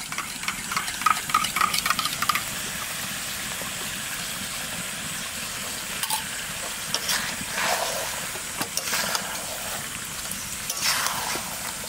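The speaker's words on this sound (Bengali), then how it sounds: "মাংসটা অর্ধেক কষিয়ে নিয়েছি, এখন দই দিয়ে আর একটু কষাবো" Chicken frying in a pan as yogurt is stirred in for sautéing, a steady sizzling hiss with scraping stir strokes running throughout, fairly close and without talk.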